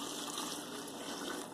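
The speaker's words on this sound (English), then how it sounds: "I take the 3 gallons of 170 degree sparge water and I dump it in here." Hot 170-degree sparge water, about three gallons, pours steadily into a brewing mash bag for a triticale IPA, a continuous broad gushing splash heard up close and alone.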